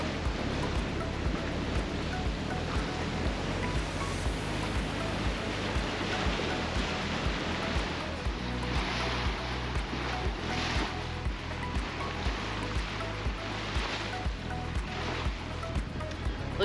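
Wind and choppy waves slap around a sailboat on a mooring ball at Titusville, Florida, as weather builds. A steady, moderately loud wash is broken by rhythmic splashes and gusty wind buffeting the microphone.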